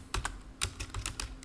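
Computer keyboard typing while writing code, a quick burst of about eight crisp, close keystrokes in an uneven rhythm in a quiet room.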